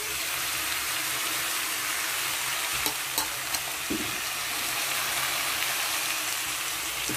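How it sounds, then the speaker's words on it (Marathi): Chicken frying in oil in a home pan with homemade garam masala, a steady soft sizzle and stirring throughout, with a few brief clinks of a utensil against the pan and no talk. "असं फ्राय करून"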